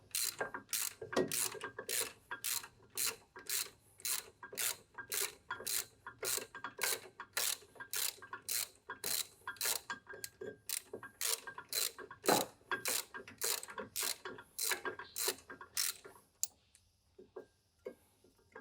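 Steady, rapid clicking of a ratchet wrench with an extension turning the upper brake caliper bolt on a Proton Saga during a brake pad change, close and continuous for most of the stretch, then stopping, followed by a few faint handling clicks.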